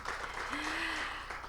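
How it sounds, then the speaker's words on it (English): Brief applause from an audience at a startup pitch competition final, a short burst of clapping with a voice faintly audible underneath. "Well, big round of applause to Bill."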